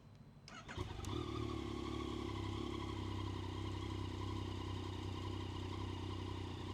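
A Yamaha MT-09 SP motorcycle with about 3,000 km on it fires up after a short crank and settles into a steady, loud idle, heard up close with no talk.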